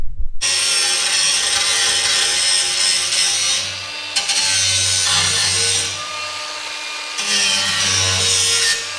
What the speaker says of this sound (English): I'll just smoothen that up with the grinder a minute